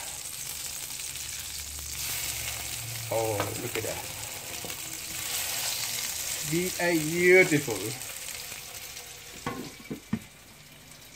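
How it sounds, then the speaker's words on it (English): Meatballs sizzle steadily in a hot frying pan, a constant hiss while a person talks briefly over it and utensils clink. "listen to the sizzling of this lovely guy"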